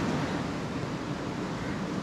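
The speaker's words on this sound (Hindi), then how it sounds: "आपको बीच की आवाज़ भी आ ही रही होगी, पानी की मस्त वेव्स कुछ ज़्यादा ही हैं आज।" Sea waves at Malpe beach on the coast of Karnataka, heard from a balcony on a monsoon day: a steady, loud wash of surf with a windy roar and no voices.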